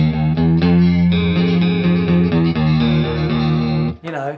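Electric guitar runs through an Electro-Harmonix Small Clone chorus pedal, giving loud, close chords with a shimmering, warbling thickness. They ring steadily for about four seconds, then cut off into a brief noisy scrape.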